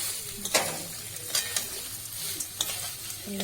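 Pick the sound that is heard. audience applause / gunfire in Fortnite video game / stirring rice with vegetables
stirring rice with vegetables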